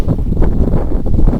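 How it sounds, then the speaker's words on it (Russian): Strong wind on the Volga river at the mouth of the Kazanka buffets the microphone in a steady low roar, gusting louder in places, with no one speaking. "Дует сильный ветер"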